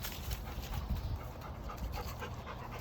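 Dogs pant rapidly and steadily close by, a soft continuous huffing in a backyard camp setting with no speech.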